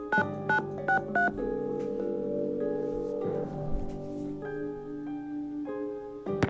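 Several telephone keypad tones beep in a quick series as a number is dialed in a Nancy Drew game, the clear pitched beeps set over a quiet humming background with no talking.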